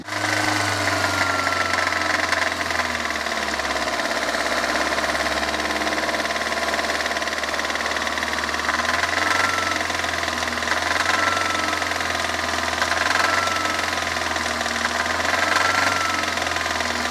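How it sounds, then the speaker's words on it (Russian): A car engine revved sharply and held at the speed where it knocks, giving a loud, steady running drone with a mid-pitched mechanical knock repeating throughout, close to the microphone with no talk. "Прямо вот именно в тех оборотах, в которых стучит двигатель."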